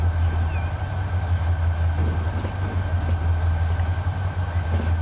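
Freight train coasting with the throttle eased off in the Transport Fever simulation game, a steady loud low rumble of rolling wagons with a constant tonal hum, continuous and unbroken throughout.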